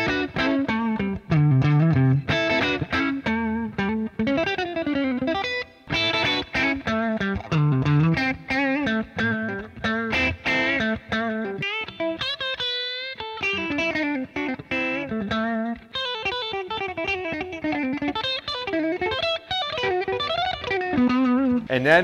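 A Gibson Les Paul electric guitar plays through heavy distortion with chugging chords and melodic lines. The sound is continuous and loud for over twenty seconds, with no voice over it.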